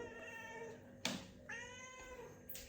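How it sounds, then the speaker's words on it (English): A big ginger cat meows up close, two or three short rising calls spaced apart in an otherwise quiet room. "That's my big ginger cat."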